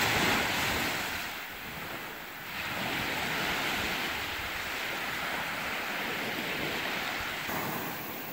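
Ocean surf rolls onto a beach in steady, continuous washes, with gusts of wind buffeting the microphone throughout and no voices.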